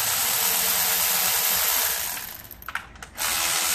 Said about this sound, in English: Go ahead and use my electric ratchet.